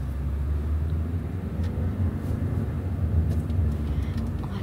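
Steady low rumble of a car on the move, continuous road and engine noise filling the whole stretch at a moderate, even level with no voices.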